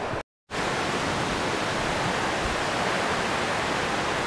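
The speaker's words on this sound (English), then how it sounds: "And here is the McKenzie River." The McKenzie River flowing through woods, a dense, steady broadband rush of moving water at close range. It follows a brief gap of silence at the start, and no voices are heard.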